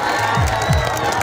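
Crowd at a Jharkhand rally cheering and shouting together, a steady dense roar of many voices with rising whoops, continuous and fairly loud throughout.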